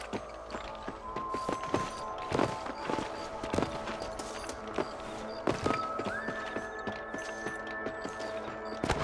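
Horses in the Red Dead Redemption video game move along with repeated hoof clip-clops, whinnies and neighs, and a rider's tack jingling over a steady ambient bed, loud and close.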